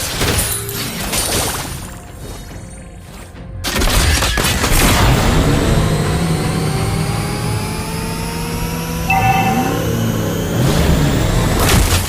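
In a video game, a turret under attack sets off dense, loud gunfire and booming explosions that run almost continuously, with a brief quieter dip before the barrage swells again. Sweeping synthetic effects layer over the shots and no one speaks.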